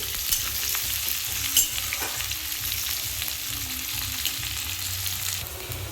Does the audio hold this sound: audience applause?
no